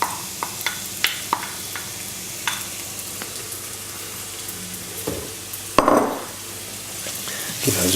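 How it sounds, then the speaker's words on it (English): Chopped onions dropped into warm oil in a pan, giving a soft continuous sizzle with scattered light clicks and a brief louder hiss and scrape as they are stirred, close and unaccompanied by talk. "Now the oil's just warming up, so let's go in with the onions."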